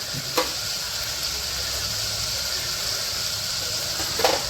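Guar bean curry with jaggery and salt fries in oil in a pan as it is stirred. A soft, steady sizzle runs throughout, with a couple of brief scraping stirs near the start and end.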